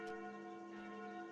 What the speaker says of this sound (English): Those sound like the church noontime bells.